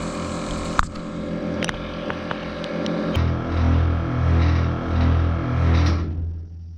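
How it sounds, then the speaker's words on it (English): Two air ride compressors on a 1967 Chevy C10 pumping to fill the air tanks, a loud close rhythmic mechanical chugging that shifts pitch partway through and pulses steadily. "right now we got both pumps going"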